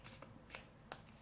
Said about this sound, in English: So then this is the second fold.